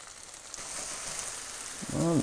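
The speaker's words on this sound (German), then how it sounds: "Und dann lassen wir von der anderen Seite auch noch anbraten." Cauliflower fries in a pan with a soft, steady sizzle that stays faint, and a brief voice comes in near the end.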